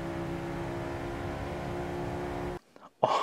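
A McLaren 650S Coupe runs hard at top speed with a steady, droning engine and wind roar that holds level, then cuts off abruptly near the end, followed by a brief burst of noise.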